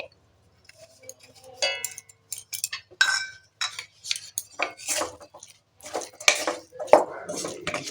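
A metal spatula clinks and scrapes in a pan as potatoes are stirred and fried with ground spices, a run of bright irregular clatters with little steady sizzle, close by.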